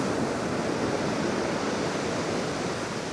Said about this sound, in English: Waves are trying to form